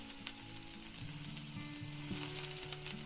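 Onions fry in oil in an overheated frying pan, giving a steady close sizzle and crackle with occasional stirring clinks over a quiet kitchen background.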